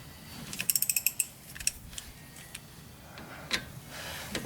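A ratchet wrench clicks in a quick run of sharp ticks on a 2009 Toyota Corolla front brake bolt, then gives a few scattered single clicks, close and fairly quiet with no talk.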